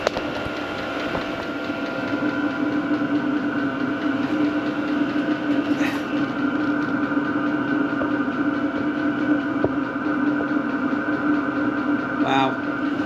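A boat engine runs with a steady, rumbling drone and a faint rhythmic chuff like a steam train, loud and close, with a couple of brief metallic clinks.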